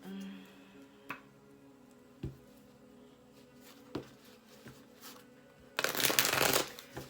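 A deck of tarot cards gets shuffled, with scattered soft taps and card flicks, then a loud, dense riffle of cards near the end, close and with no talk.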